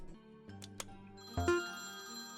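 A telephone rings in a vampire video game, its electronic ringtone starting partway through and growing louder toward the end, with no speech over it.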